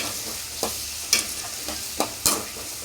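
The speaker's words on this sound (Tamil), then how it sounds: "தக்காளி இப்போ பச்சை மிளகா போட்டு நல்லா வதக்கிறோம்" Tomato and green chili sauté with onion in a hot pan, a continuous sizzle broken by about six sharp scraping stirs at uneven intervals, close and fairly loud.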